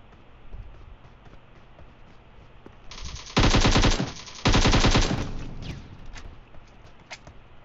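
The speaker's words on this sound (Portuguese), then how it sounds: "Boa, Foster, atira sem falar na onde." Automatic gunfire erupts in PUBG Mobile, two loud sustained bursts close by, separated by a brief pause, over a low game background with faint footsteps.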